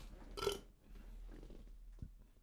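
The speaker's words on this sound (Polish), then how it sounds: "Czekajcie, muszę beknąć." One short, low burp sounds close to the mic, then quiet room noise with a faint murmur and a small bump afterward.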